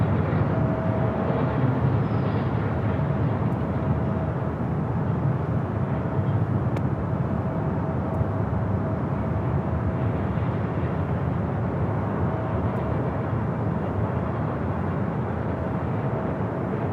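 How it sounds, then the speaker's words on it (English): Lufthansa Airbus A380 arriving at Los Angeles International Airport, a continuous broad jet roar heard from a distance, steady in level throughout without talk. "Lufthansa A380 Super on its way in."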